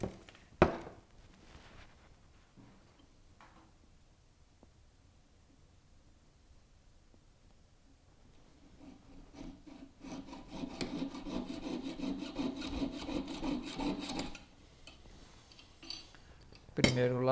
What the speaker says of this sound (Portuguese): Então, feita a marcação, vamos serrar.